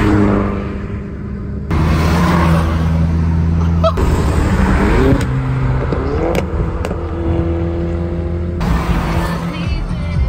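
A Ford Fiesta ST engine revs and accelerates with a steady, loud drone and rising harmonic sweeps, fading briefly before surging again, with no voices over it.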